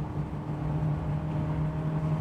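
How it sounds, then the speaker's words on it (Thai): Exhaust note of a DFSK Glory i-Auto accelerating uphill, heard from inside the cabin as a steady low engine drone with a sustained hum, continuous and moderately loud, with no talking. "พอกดคันเร่งนี่เสียงท่อนี่ผมได้ยินชัดมากเลยนะเสียงข้างหลังอ่ะ"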